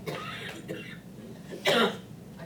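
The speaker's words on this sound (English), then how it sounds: "Stop coughing, yes, I'm sorry." A couple of short coughs, the last one loud and harsh, with quieter breathy noise in between.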